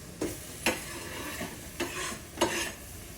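Risotto is stirred in a pan, four distinct scraping strokes of a spoon against the pan over a soft, steady sizzle, close and fairly quiet with no talking.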